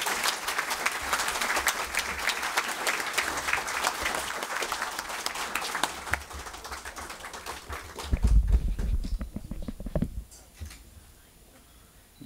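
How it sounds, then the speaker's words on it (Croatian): Audience applause at a book promotion evening, a steady dense wash of clapping from a seated crowd lasting about eight seconds, then thinning, with low rumbling movement and shuffling as it fades out. "a vas molim da ga pozdravite aplauzom"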